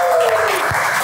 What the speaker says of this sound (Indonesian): Tepuk tangan dulu dong biar kita semangat di sini.